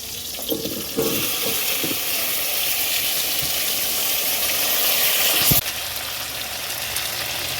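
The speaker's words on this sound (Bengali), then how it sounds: "কচু পটল ভাজা হয়ে গেছে" Taro and pointed gourd frying in an oiled pan, a steady broad sizzle that runs unbroken for several seconds with a few brief clatters near the start, no voices.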